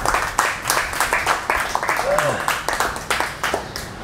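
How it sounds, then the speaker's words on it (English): An audience at a talk in Chiang Mai claps and applauds a speaker, a dense run of sharp, irregular hand claps that continues steadily throughout with scattered voices mixed in. "would you please give him a big, big round of applause"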